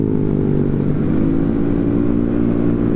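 A motorcycle engine running loud and close, revving with rising and falling pitch over a steady throaty rumble.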